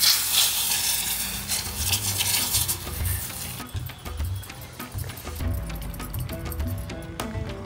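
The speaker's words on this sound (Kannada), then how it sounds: "ನಾನು ಬರೀ ಸಾಸಿವೆ, ಇಂಗು, ಕಳೆಬೇಳೆ, ಉದ್ದಿಬೇಳೆ ಒಗ್ಗರಣೆ ಹಾಕೋತಾ ಇದೀನಿ." Mustard seeds, asafoetida, chana dal and urad dal tempering in hot oil for a traditional kayi ganji, with a close, steady sizzle and crackle, brief stirring and utensil clinks, no voices.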